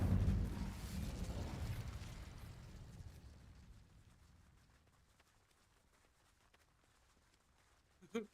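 An Incendio fire spell goes off in Hogwarts Legacy as a loud, rumbling fiery blast that roars up and slowly fades over several seconds, leaving near-silence broken by one small pop at the end.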